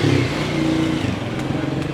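A motorcycle taxi's engine hums loudly and steadily nearby, a continuous drone with slight fluctuation and no clear revving.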